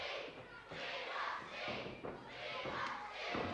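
A 1988 professional wrestling crowd on British TV roaring and cheering in continuous swelling waves, with dull thuds from the ring and a commentator talking over the noise.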